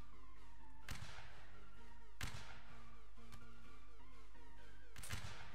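Musket shots ring out in Mount & Blade Napoleonic Wars, four separate sharp reports spaced a second or so apart over a steady background hum, loud and fairly close.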